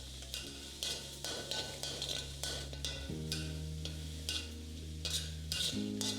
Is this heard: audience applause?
no